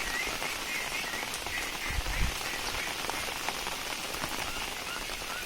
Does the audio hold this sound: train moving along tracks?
no